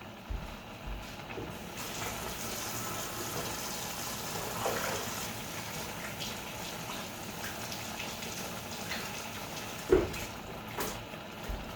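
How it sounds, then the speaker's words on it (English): Dishes washed in a kitchen sink while making homemade chili, with steady running and sloshing water, dipping in soapy water and rinsing, and a sharp clink near the end. "I just dip them in soapy water and then rinse them really good."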